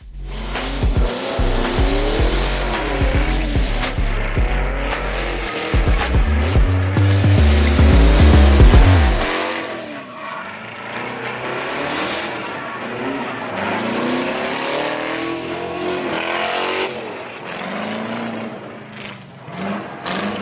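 A BMW Z4 spins through donuts, its engine roaring loud and steady while the tires squeal and skid nearly nonstop. The intensity peaks and then cuts off abruptly partway through, leaving quieter, wavering tire and engine noise.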